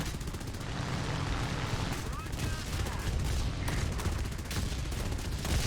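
Ki-10-I biplane guns fire in the War Thunder flight game as a dense, continuous rattle of rapid shots that stays loud and close throughout.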